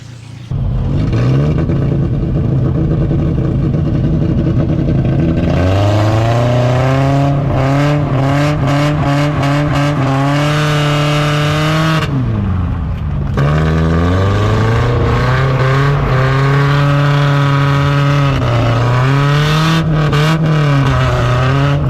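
A project car's engine revs and pulls away, loud and close, with repeated rising and falling surges as it accelerates and shifts over about twenty seconds.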